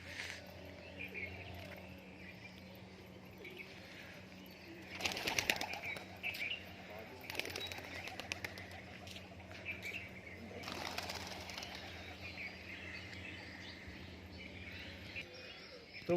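Several bursts of pigeon wings flap loudly as the birds come down for food, with crickets chirring steadily in the background.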